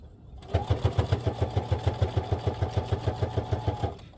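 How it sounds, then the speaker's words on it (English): A sewing machine stitches a rectangle around the edge of fabric for a zippered project bag, giving a steady, rapid mechanical chatter of evenly spaced needle strokes, close and alone for about three seconds. "we're going to go over the sewing machine and we're going to sew a nice rectangle all the way around"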